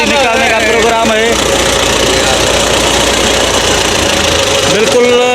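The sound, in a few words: tractor engine running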